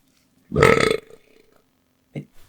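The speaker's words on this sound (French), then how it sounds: "Elle commence à lâcher un gros rot." A woman lets out a loud, deep burp after drinking something fizzy, one long rumbling belch followed by a short fainter second burst a second later.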